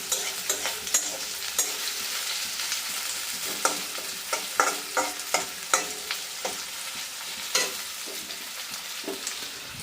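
Chopped onions fry in a pan with a constant bright sizzle, punctuated by regular scraping clacks of stirring throughout.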